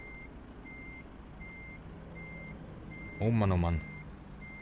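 A truck in American Truck Simulator gives steady, evenly spaced reversing beeps over a low engine hum, with a man briefly muttering near the end.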